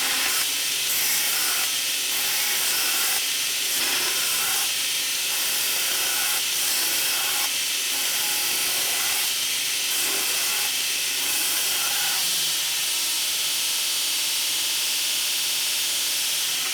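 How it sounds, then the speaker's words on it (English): Belt grinder grinding the bevels on a handmade knife blade, a loud continuous hissing whine with regular pulsing surges as the blade is passed across the belt again and again. "I'll get to grinding this thing, see if I can get the bevels in."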